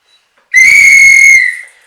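A single sustained, shrill whistle blast in a drama class, lasting about a second, loud and close, then fading out.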